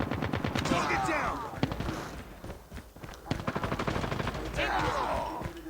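Rapid automatic gunfire and single shots from the Call of Duty Mobile shooter game, bursts of rattling fire running through most of the stretch alongside game effects, with no one speaking over it.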